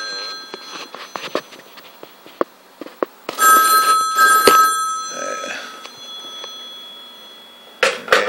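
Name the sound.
telephone ringing on a Panasonic 308 PBX phone system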